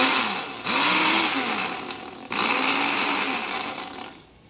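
An electric blender whirs as it blends jackfruit for a sweetened dessert, a steady motor hum with brief dips and restarts, loud and close, no talking.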